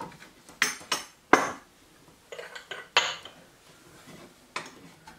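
Ceramic ramekins being handled clink against each other and nearby dishware in a string of sharp, irregular knocks, roughly eight distinct hits with short quiet gaps between them, close and clear without speech.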